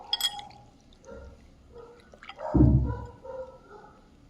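Hands rub raw prawns in a bowl of water, making close wet squelches, a few drips and a brief louder slosh midway, with no talking.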